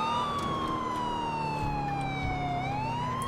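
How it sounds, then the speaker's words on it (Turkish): Police car sirens wail steadily with slowly sliding tones over a constant engine rumble in the video game GTA IV, loud and close, like several emergency vehicles passing. "oha önümden 16 tane polis arabası geçti"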